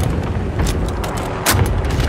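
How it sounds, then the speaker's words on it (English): Cluster strike explosions in Call of Duty: Modern Warfare, a dense rumbling barrage of booms and sharp blasts rolling continuously for a couple of seconds, with a louder hit near the end. "Cluster strike inbound."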